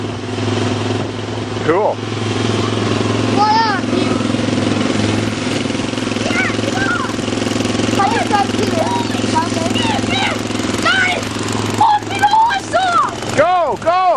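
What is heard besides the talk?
motorcycle engine being ridden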